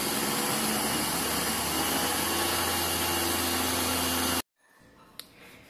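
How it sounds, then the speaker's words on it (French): A blender whirs loudly and steadily as it blends orange and lemon into lemonade, then stops abruptly, leaving faint clatter and a light knock. "Donc vous fermez et on va mixer. Il faut bien bien mixer, hein."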